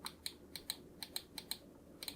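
Hard clicks from the ratcheted rubber scroll wheel of a Secret Gear gaming mouse (ZX1 or ZX2), about a dozen sharp close ticks in quick, slightly uneven succession against a quiet background.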